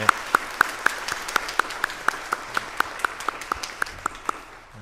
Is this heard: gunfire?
no